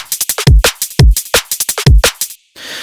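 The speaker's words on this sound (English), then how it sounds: "So the main drums all sound like this." Electronic two-step drum pattern of punchy kicks and a short accented snare with crisp percussion, a looping bass-music beat that stops briefly before a soft noisy tail.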